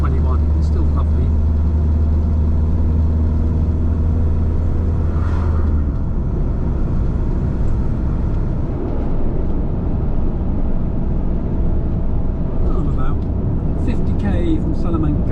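Car driving on a road in Spain near Salamanca, a continuous steady rumble of engine and road noise heard from inside the cabin, with no talking.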